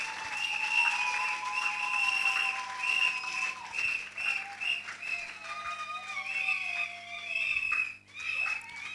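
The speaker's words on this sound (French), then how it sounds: "Veuillez applaudir, mesdames et messieurs." An audience applauds at a civil wedding, a sustained patter of clapping with whistles and cheers over a steady tonal background, fading briefly before picking up again.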